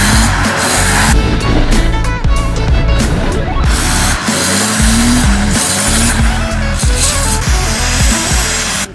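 Mercedes fitted with a truck engine drifting, loud engine roar with rising revs and continuous tire squeal and skidding across several seconds, close and intense.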